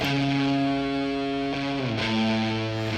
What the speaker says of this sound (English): throw distortion on there